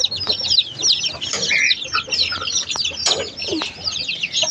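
Several chickens cluck and squawk close by, overlapping calls coming in quick bursts over a quiet background, from a sick flock whose chicks are dying of an unknown illness.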